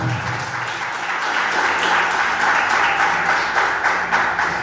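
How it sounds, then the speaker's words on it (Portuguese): Church congregation applauding loudly during a worship service, a thick, continuous wash of many hands clapping that holds steady throughout, close and full. "Vamos aplaudir a Jesus bem forte."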